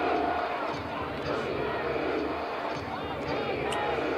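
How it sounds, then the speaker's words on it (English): At a high school football game between Pinkerton and Salem, the stadium crowd chants for defense, a broad continuous roar of many voices at a distance, with a few sharper shouts rising from it. "And again, the crowd calling for defense."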